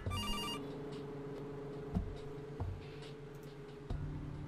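A telephone rings in the point-and-click adventure game Kathy Rain, a short bright electronic trill at the start over quiet background music, followed by a few faint ticks and clicks.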